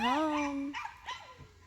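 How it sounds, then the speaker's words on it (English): Excited dogs on a farm yip and whine in a rising, drawn-out cry followed by a couple of shorter barks, close by and fairly loud. "The dogs are really excited."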